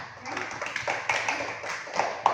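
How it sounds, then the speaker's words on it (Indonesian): A first-grade class claps hands together, a short patter of scattered, uneven claps from a small group of children, fairly close and moderately loud. "Tepuk tangan dulu untuk anggota tubuh kita."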